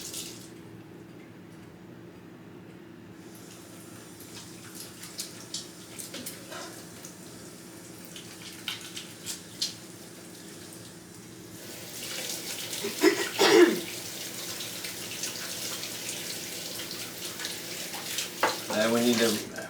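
Tap water runs into a kitchen sink as hands are washed during pork preparation, a steady hiss that swells louder in the second half, with people talking over it.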